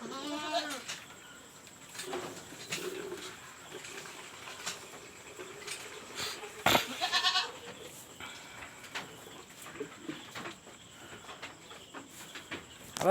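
Goat bleats in a shaded farmyard, a wavering cry at the start followed by quieter scattered bleats, rustling and handling noises, with faint birds in the background.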